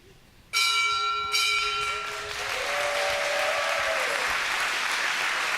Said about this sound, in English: Ringing that bell is pretty special around here, isn't it?